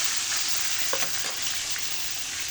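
Fish fries in a pan over a strong flame, giving a loud, continuous crackling sizzle that stays steady throughout with no talking.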